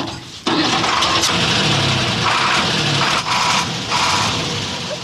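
An old livestock transporter truck's engine cranks and catches, then settles into a steady, loud mid-pitched running rumble with a brief dip partway through, close by and with no talk over it.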